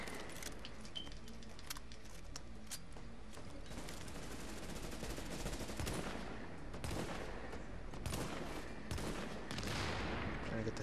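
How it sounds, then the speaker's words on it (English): Turret fire in The Division rattles out as rapid, dense bursts of gunfire mixed with metallic clatter, continuous and fairly close across the whole stretch, with a voice speaking now and then underneath. "Turret. It's shooting at me."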